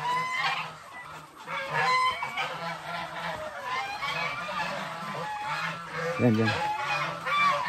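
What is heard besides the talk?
geese honking at a goose nest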